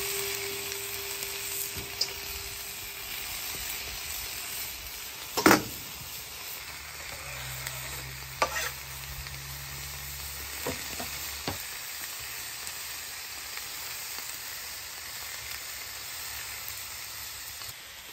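Classic hot dogs and sausage buns cooking on a flat-top griddle, giving a continuous even sizzle with a couple of sharp clanks and a brief low hum partway through. No one speaks.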